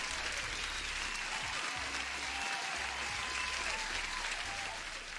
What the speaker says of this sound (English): Hey Zoltan, you deserve the applause as well.